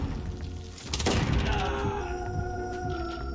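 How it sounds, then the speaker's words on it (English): Explosions from a precision airstrike in Modern Warfare, a loud boom then a rumbling crackle of blasts that keeps going over a busy game soundscape. "Enemy precision airstrike, take cover!"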